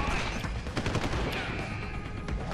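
A flashbang grenade goes off in Deus Ex: Human Revolution, The Missing Link, filling the whole stretch with a loud, dense blast of noise and crackling impacts that stays near and constant.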